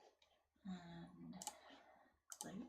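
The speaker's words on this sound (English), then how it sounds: "I'm just double clicking to access one tick in the box" A computer mouse is double-clicked while setting up a heat transfer vinyl design for an electronic cutter, giving quick, close clicks in a few short bursts, with a quiet voice talking between them.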